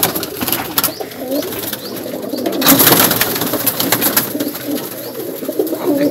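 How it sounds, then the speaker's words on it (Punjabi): Pigeons coo up close in a loft, soft repeated throaty calls overlapping with rustling and brief wing flutters, loud and near with no talking. "ਆਪਾਂ ਹੋਰ ਝਲਕ ਵਿਖਾਉਂਦੇ ਹਾਂ ਕਬੂਤਰਾਂ ਦੀ ਨੇੜੇ ਕਰਕੇ।"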